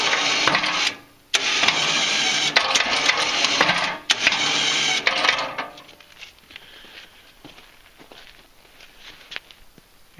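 An electric winch raises a GT6000 snow plow, a loud, close whining motor drone that stops and restarts in a few short bursts before cutting out, leaving quiet shuffling and faint knocks.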